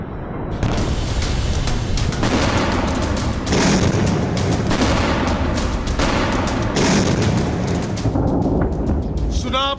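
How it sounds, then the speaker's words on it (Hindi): Explosions in Tehran rumble in a dense, continuous roar of heavy booms, loud and close, with repeated blasts swelling over the barrage and no voices. "तेहरान में हो रहे ये धमाके दुनिया को खौफजदा कर रहे हैं"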